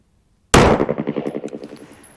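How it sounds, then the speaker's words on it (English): A single sharp shot from a Springfield XD9 pistol rings out after a brief silence, followed by a dense, rapidly repeating metallic ringing that decays over about a second and a half, with no talking. "I jerked the trigger."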